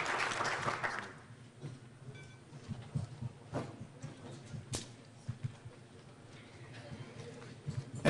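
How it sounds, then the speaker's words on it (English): Audience applause at the Cleveland International Hall of Fame ceremony, a short burst of clapping that fades quickly into a quiet room with a few scattered claps and soft knocks. "One more round of applause."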